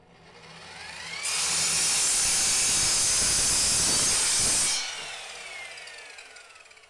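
A Tacklife EMS01A compound miter saw cuts through a wooden board, giving a loud, steady whining, hissing roar for about three and a half seconds before the blade winds down.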